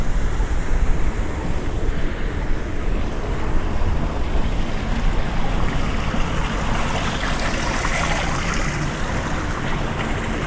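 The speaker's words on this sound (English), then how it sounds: "There's a lot of water moving. But it's like going down the drain." Water rushes steadily somewhere below, like overflow draining away outside a temple at night, a loud, continuous broadband wash with no talk over it.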